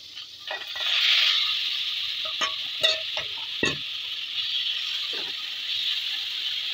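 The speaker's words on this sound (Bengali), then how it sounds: "আমি প্রথমে ফ্রাই প্যানে বাটার দিয়ে দিচ্ছি। এখন সেই মাখানো চিকেনগুলি দিয়ে দিচ্ছি" Marinated chicken pieces fry in butter in a frying pan for shawarma, with a steady close sizzle broken by several quick knocks and scrapes of a utensil.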